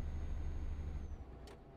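Truck engine in Euro Truck Simulator 2 drones steadily at low pitch while driving, loud and continuous, easing off slightly near the end with a brief hiss.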